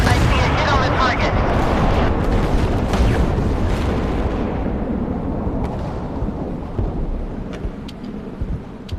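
Naval guns on warships in the video game Force of Warships roar in a dense, loud barrage of rumbling blasts that slowly fades into a quieter tail with sparse sharp cracks.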